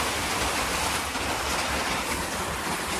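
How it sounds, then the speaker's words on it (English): Heavy pouring rain makes a dense, steady hiss of close, constant noise with no talk over it. "Now it's pouring down rain."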